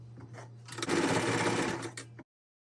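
A sewing machine runs a brief top-stitching burst on fabric for an RV door curtain, a steady close whirring rattle lasting under two seconds before stopping.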